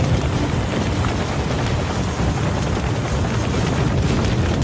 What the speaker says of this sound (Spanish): Un helicóptero Chinook se estrellaba.